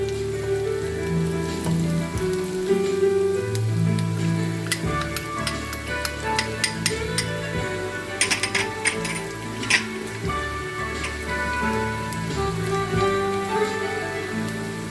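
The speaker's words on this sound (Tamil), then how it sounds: "வெங்காயம் நல்லா பொரிஞ்சு கொண்டு இருக்குது" Onions frying in oil in a home kitchen while making a potato dish, a steady close crackling sizzle running throughout with scattered sharper pops and spatters, no talking.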